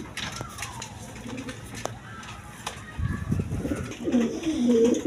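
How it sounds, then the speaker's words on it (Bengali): A pair of caged pigeons, a red Gola male and a Kokar female, coo close by in low, rolling calls that grow louder toward the end, with scattered clicks and other noises around them. "দর্শক এখানে এক পেয়ার কবুতর আছে।"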